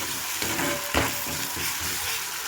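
Green chillies and drumstick leaves sauté in hot oil, giving a steady close sizzle with a brief louder crackle about a second in. No one speaks.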